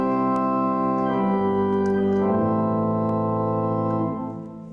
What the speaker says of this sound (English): We've got a chorus of 3 voices, and they all sound like this.